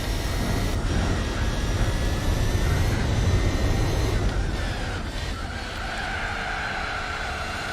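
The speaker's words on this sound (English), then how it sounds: "That was horrific understeer" Car tires skidding from understeer in the video game Gran Turismo 4, a sustained tire squeal over steady engine roar that eases slightly toward the end, continuous and fairly loud.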